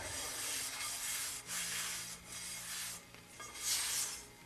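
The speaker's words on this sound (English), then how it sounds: "Just dry it out a little bit." A restored cast iron skillet is wiped dry with a cloth, giving repeated close rubbing strokes in an irregular rhythm, moderately loud against a quiet room.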